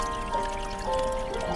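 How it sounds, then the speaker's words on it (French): River water flowing steadily, a continuous soft gurgle and trickle heard close by with a gentle, even murmur and no voices. "une rivière s'écoule paisiblement, chantant une mélodie douce et continue"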